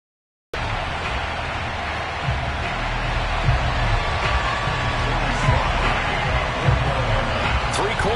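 A stadium crowd at an NFL game between the Arizona Cardinals and the Carolina Panthers, heard as a steady, dense roar of many voices that swells at moments, close and continuous throughout.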